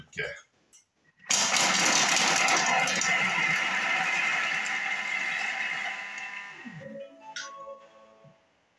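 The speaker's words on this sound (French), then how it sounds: "oignon et ail, gousse d'ail, dans le bol qu'on va mixer 5 secondes à la vitesse 5" A Thermomix bowl chopping onion and garlic cloves at speed 5: a loud, steady whirring blade burst of about five seconds, starting abruptly after brief handling noises and then winding down with faint clatter.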